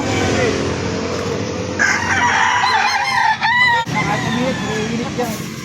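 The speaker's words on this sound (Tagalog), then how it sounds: "Ayan, may mga manok pa pala dito." Roosters crowing loudly nearby with hens clucking at a livestock market in Victoria, Laguna, over a background of outdoor noise and faint voices.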